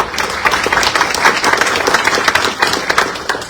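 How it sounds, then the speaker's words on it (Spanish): An audience gives a strong round of applause for a captain being introduced at a climate change talk in Peru: continuous crowd clapping, close and loud, with a busy uneven texture and no voices over it. "Nuestro capitán está presente, un fuerte aplauso"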